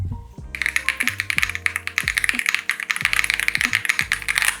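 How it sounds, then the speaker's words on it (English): Rapid clacky keystrokes on an Epomaker SK65 mechanical keyboard, with a poppy, light character in a quick irregular rhythm over background music. "It's got a really poppy, light sound profile, and it's just a joy to type on for me."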